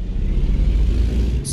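A Kenworth K100-E truck drives in American Truck Simulator, its engine giving a steady, deep low rumble that runs unbroken and fairly loud from start to finish, with no talking.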